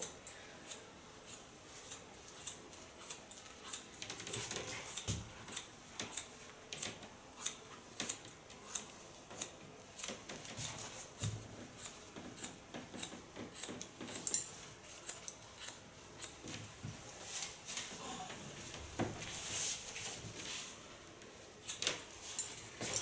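Scissors snip through curly hair during a shoulder-length bob cut, giving a long series of close, crisp, irregular clicks and shears with quiet pauses between them.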